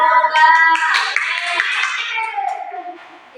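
Classroom applause from schoolchildren after a group answers in a primary-school science lesson, a burst of clapping mixed with loud children's voices and chanting, fading toward the end.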